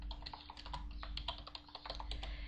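Rapid typing on a computer keyboard, a dense stream of close clicks over a steady low hum.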